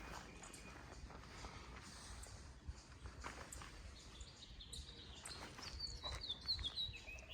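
Young birds chirp faintly in high, thin calls around a backyard nest, with scattered brief tweets rising later over a low outdoor rustle and a few footsteps.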